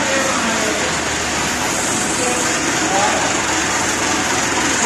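A tractor engine runs steadily at a farm field, a constant low rumble close by that holds level throughout with no clear changes in pitch.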